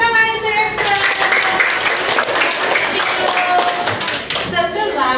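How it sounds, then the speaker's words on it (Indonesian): Classroom applause: a burst of quick, close hand clapping from a group of students fills the whole stretch, with voices mixed faintly underneath. "tepuk tangan untuk Excel."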